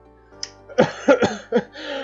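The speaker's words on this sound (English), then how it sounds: "he lets out a big cough before sitting down" A video game character gives a short sharp sniff followed by a few rough, voiced coughs in quick succession, close and moderately loud.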